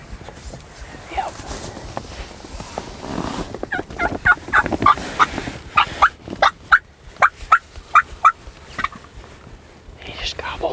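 Wild turkey tom gobbling in a quick rapid series of sharp rattling calls, with a hushed voice whispering nearby and footsteps rustling.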